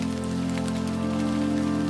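Spring rain falls steadily, a dense, even patter on surfaces that stays constant and fairly loud throughout, with no voices.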